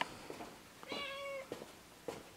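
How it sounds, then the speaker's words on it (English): A house cat meows clearly once, a drawn-out, slightly wavering call in a quiet indoor room, with faint soft shuffling noises before and after it. "Tormenting your cat?"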